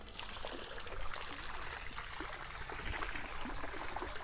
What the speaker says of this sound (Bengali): এই জল পড়ছে